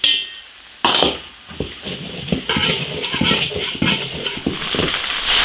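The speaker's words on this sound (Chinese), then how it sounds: "配料稍微炒一下，下鱼" Fish stir-fried with seasonings and vegetables in an iron wok, a sudden loud sizzle followed by steady frying hiss with repeated clanks and scrapes of a spatula against the metal.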